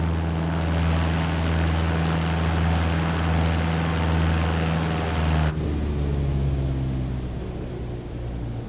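Simulated Cessna 152 engine in Microsoft Flight Simulator drones steadily and loud, then abruptly drops to a lower, softer hum as the power is cut, with no talking.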